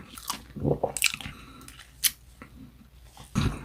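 Close, wet chewing of a Lotteria double square shrimp burger, with crunchy bites, smacking and squishy mouth sounds in irregular bursts, quiet between them, without talking.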